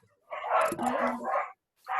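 A small pet dog barks indoors in a couple of loud, close, drawn-out outbursts, with a short pause between them.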